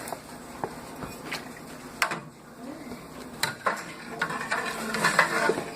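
Beer extract from a 21st Amendment Bitter American kit poured and stirred into a brew pot, with intermittent close scrapes, knocks and swishes of a spoon against the pot, a faint voice in places.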